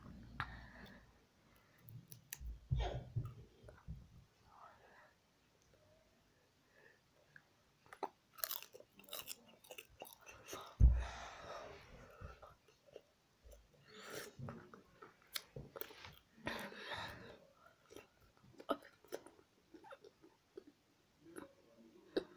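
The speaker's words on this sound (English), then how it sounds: "I'm just gonna chew." Someone crunches crisps while wearing gum shields, giving irregular close-up bites and wet chewing clicks that come in bursts with quiet gaps between them.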